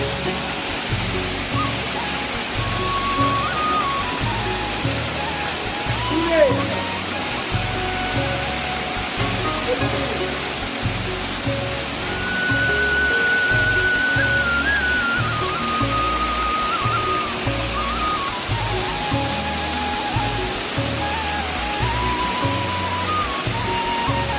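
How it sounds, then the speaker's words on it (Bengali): A monsoon hill waterfall in Purulia roars as a steady, full rushing wash of falling water, close and constant throughout with a faint thin tone drifting over it. "এই পাহাড়ের ঝর্ণা থেকে বয়ে যাওয়া সমস্ত জল কিন্তু এই নিচের ড্যাম্পে গিয়ে একত্রিত হয়ে জমা"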